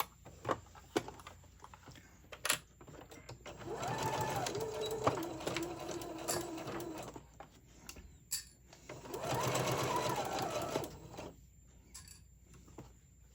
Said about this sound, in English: You want to make sure you sew your seams going the same direction.